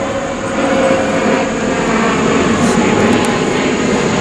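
A fixed-wing aircraft droning overhead near an airport in a rural farm setting, a steady loud engine roar that holds evenly throughout without any voices.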